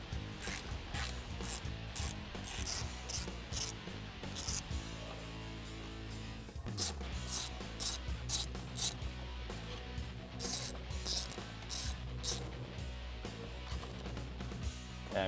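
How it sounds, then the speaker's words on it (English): A ratchet works loose the four 8mm bolts holding the stock 80mm throttle body to the intake manifold of a 5.7L Hemi in a 2013-2018 Ram, giving steady clicking with faint metallic clinks, no talking. "we can remove our throttle body by undoing the 4 8mm bolts holding it to the intake"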